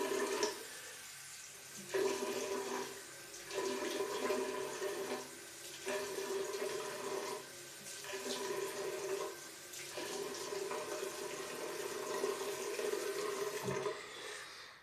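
Water runs from a tap in a bathroom while a face is wetted before shaving, a steady hiss broken by rhythmic splashes every couple of seconds, faint and without talk.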